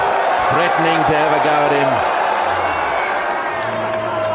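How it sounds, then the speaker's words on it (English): A loud stadium crowd roars at a cricket match between India and Australia, a dense sustained wall of cheering with whoops, while a commentator's voice rises and falls over the top. "I don't know if you heard that roar go up in this crowd"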